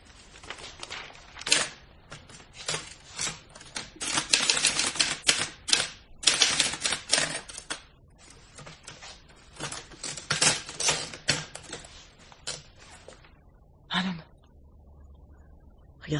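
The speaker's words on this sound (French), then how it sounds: "les machines à écrire portatives sont très répandues" Keys clack on a portable typewriter as a letter is typed, bursts of sharp strikes in uneven runs with short pauses, close and alone, ending in a lone carriage-like clunk.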